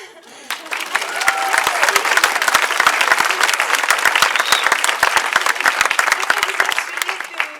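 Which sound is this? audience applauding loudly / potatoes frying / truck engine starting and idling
audience applauding loudly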